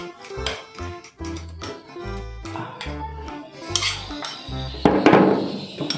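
A spoon knocks and scrapes around a bowl as donut batter of flour, butter and baking powder is stirred, producing uneven, close clinks and taps in a quick irregular rhythm.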